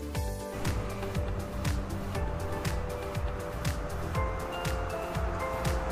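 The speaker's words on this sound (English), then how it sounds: "This is a bus." Bus engine noise, a steady low idling rumble with broadband road-like hiss, heard alone and fairly constant throughout.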